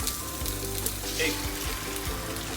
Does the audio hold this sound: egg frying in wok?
yes